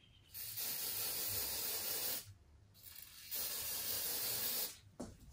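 A can of fixative sprays over a pastel painting on brown paper bag, two long steady hissing bursts separated by a pause, then a short final spurt, close and fairly quiet.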